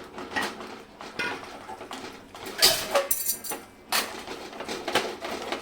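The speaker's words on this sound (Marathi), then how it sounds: "आता आपण जे पीठ तयार करून घेतलं होतं ते याच्यामध्ये टाकून घ्यायचे आणि लाटणं घ्यायचे आणि असं ढवळत राहायचे" Poha flour being stirred into water with a wooden rolling pin in a pot, irregular knocks and scrapes against the vessel with sloshing, close and fairly loud, no voices.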